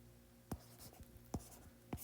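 Pen strokes on paper while an electrostatics solution is worked out by hand: three quick, close scratches spaced about a second apart, faint and isolated with a low steady hum beneath.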